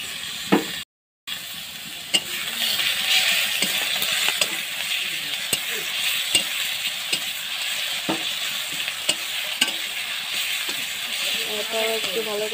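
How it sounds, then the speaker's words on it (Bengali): Ginger garlic paste fries with reddened onions in a pan for a meat curry, giving a continuous bright sizzle with occasional spoon scrapes and a brief silent gap near the start. "আদা রসুনটা একটু ভালো করে ভেজে নিচ্ছি"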